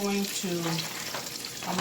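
Steady sizzling of cube steak frying in a hot pan, a constant crackle with brief tonal clinks over it.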